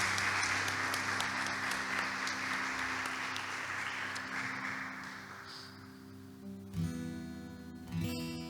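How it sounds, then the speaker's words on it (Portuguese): A church congregation applauds during an evangelical service, with steady, moderately loud clapping that fades after about six seconds, giving way to sustained musical tones and a few thuds. "Aplaudir ao Senhor em nome de Jesus."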